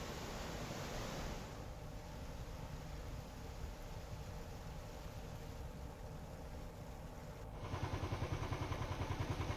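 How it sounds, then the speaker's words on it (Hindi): Heavy flood water from monsoon rain rushes down from higher ground across a road in Rajouri, Jammu & Kashmir: a loud, continuous roaring wash with no voices, surging a little stronger near the end. "काफ़ी ज़्यादा पानी ऊपर से आ रहा है।"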